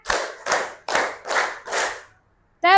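A class of pupils claps five times in a steady rhythm during a counting game, each group clap crisp and close. A short pause follows, then another sound begins at the very end.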